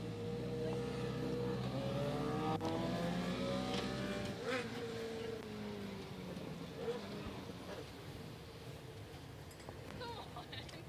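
3/4-scale sprint race cars roar past on an oval speedway, their engines whining and fading in overlapping passes, with an announcer talking over the racket.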